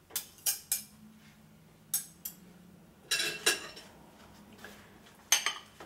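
Metal kitchen utensils clink and clatter as a knife is picked up, a handful of sharp, close knocks and scrapes spaced through a quiet kitchen, with a busier rattle in the middle.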